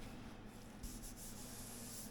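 A 1982 air-cooled VW Vanagon Westfalia door is hand-sanded with 320-grit paper, producing a faint, steady scratchy rubbing with a brief stronger stroke partway through, close by and quiet.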